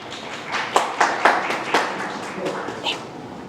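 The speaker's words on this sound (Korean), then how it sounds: "큰 박수로 부탁드리겠습니다." Audience applause at a keynote session on a won stablecoin ecosystem, with scattered claps rising in several loud bursts before thinning out, under faint background murmur.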